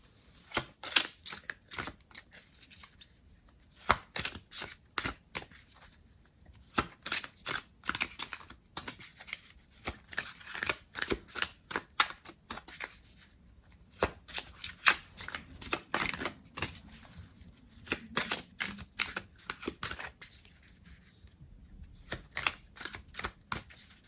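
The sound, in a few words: shuffling tarot cards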